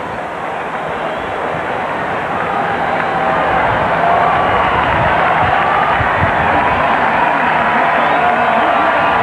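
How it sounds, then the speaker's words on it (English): Crowd cheering at a horse race track as the winning horse Lil E.T. returns, a broad, steady roar of many voices that swells slightly louder partway through and holds. "Crowd cheering for the winner coming back"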